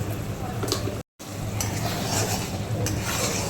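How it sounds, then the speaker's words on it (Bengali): Spices are stirred and fried in a pan for a Bengali cabbage and paneer dish, a soft continuous sizzle with light scraping under a brief cut to silence. "এবার একটু ভালো করে আমি নাড়িয়ে চাড়িয়ে নিচ্ছি মশলাটাকে"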